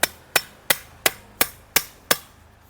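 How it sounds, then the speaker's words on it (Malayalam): A hammer taps 8 mm steel rods into place, giving seven sharp, evenly spaced metallic knocks at a steady rhythm, close and loud with brief ringing decays and no talking. "ചുറ്റിക വെച്ച് ഒന്ന് ഉറപ്പിക്കുകയാണേ"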